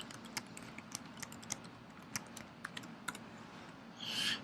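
Fingers type credit card details on a computer keyboard, a quiet run of quick irregular key taps close by, ending with a brief rustle.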